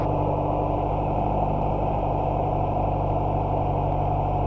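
A small aircraft piston engine idles before takeoff, producing a steady, close, low rumbling drone with an even mechanical pulse and no talk.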